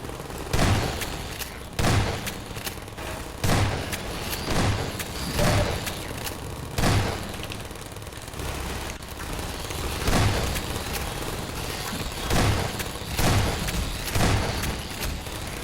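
Repeated heavy bursts from an automated turret in a Linux-run video game, thudding at irregular intervals over a steady noisy background, fairly loud with no talk.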